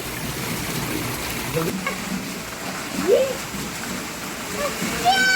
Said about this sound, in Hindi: पानी गिरने वाला है।